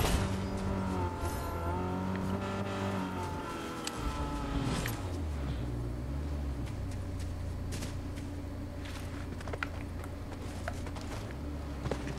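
A vehicle driving in Fortnite Zero Build, its engine droning steadily with shifting pitch as it accelerates, faint tire noise and occasional sharp clicks, loud and continuous throughout.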